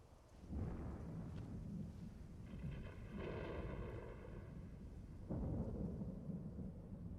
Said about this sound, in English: God, the sound of the storm?